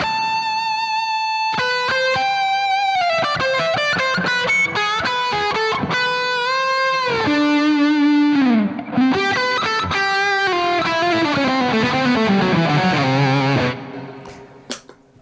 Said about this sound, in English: that's a really good saturation for distortion